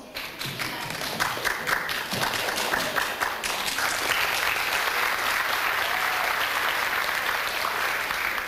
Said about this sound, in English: Please have your applause for the influence.